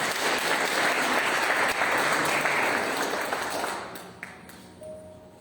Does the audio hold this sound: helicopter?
no